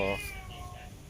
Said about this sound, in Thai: แมวลายเสือสวยสวยสวย